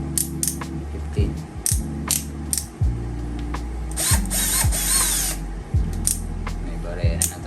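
A power drill whirs in repeated short bursts, its motor pitch rising and falling with the trigger, with clicking and rattling between runs.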